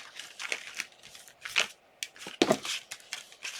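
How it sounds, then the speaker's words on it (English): Crisp papery riffling and soft slaps of tarot cards being shuffled in several quick bursts, close up, with no talking. "Do some shuffling here."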